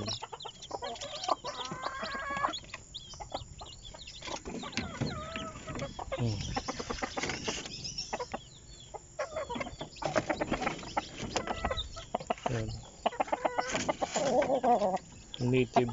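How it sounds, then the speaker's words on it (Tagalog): Native Bisaya chickens in a backyard vegetable garden cluck steadily throughout, with busy overlapping calls from several birds close by, and a few faint voices mixed in. "Bisaya na manok."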